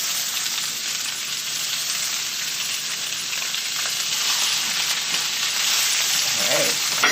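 Spinach wilting in a hot pan, a loud continuous close frying sizzle that swells slightly toward the end.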